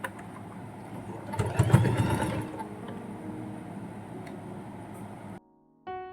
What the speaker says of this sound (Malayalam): ഇനി നമുക്കിത് ഇങ്ങനെ ഒരു സ്റ്റിച്ച് 2 സൈഡിലൂടെയും കൊടുക്കാം